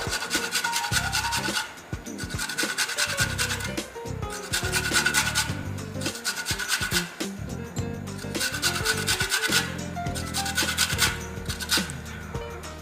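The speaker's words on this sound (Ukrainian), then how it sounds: "Легенькими рухами збиваємо вершки з лимонним соком та додаємо також цедру лимона." Cream being whisked with lemon juice and grated lemon zest for a lemon sauce, giving a steady, busy scraping and rubbing with quick rhythmic strokes, close and fairly loud throughout with no talking.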